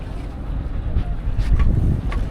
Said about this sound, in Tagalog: Bangka ba bangka?